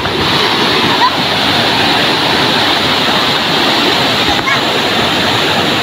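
A waterfall roars loud and steady as a close, constant broadband rush of falling water, with no break across the whole stretch.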